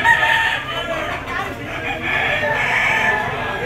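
A gamecock rooster at a busy fighting-cock market lets out a drawn, strained crow mixed with clucking, close and fairly loud over murmuring background noise.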